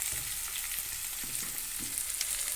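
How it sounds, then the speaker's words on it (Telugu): Onions, green chillies and garlic frying in a pan, a steady broadband sizzle throughout with a few soft stirring scrapes, close and continuous with no talk. "బాగా వేయించుకోవాలి ఉల్లిగడ్డలు పచ్చిమిర్చి వెల్లుల్లిపాయలు"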